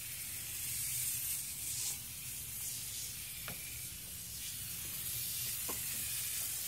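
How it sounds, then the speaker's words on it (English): A hose sprays water onto a car engine bay during cleaning, producing a continuous close, broad hiss that stays even throughout. "you don't want to really hose down the alternator directly"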